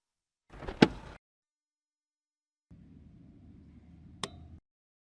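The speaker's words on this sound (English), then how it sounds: "Let's open the hood and see what you have there." Hood release and bonnet of a Mazda CX-8 being opened: a short clunk with a sharp click, a pause, then a lower rumbling shuffle of the hood lifting with a metallic tick near the end, close by, no talking.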